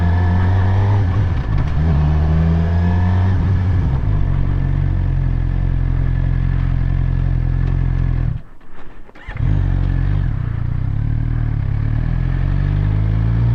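A Suzuki GSXR 600 motorcycle pulls away from a stop, its engine note loud and close as it revs and climbs, briefly dropping away near the end before picking back up.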